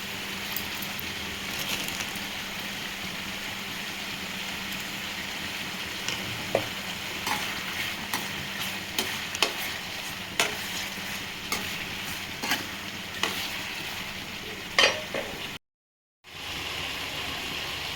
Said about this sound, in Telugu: వాటర్ అంతా ఇలా ఉడుకుతుందండి